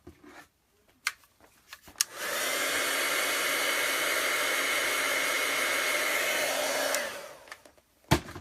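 A hair dryer blows for about five seconds to dry stamped ink on a card, a steady loud whooshing whir that starts abruptly and winds down, framed by brief clicks and handling noises.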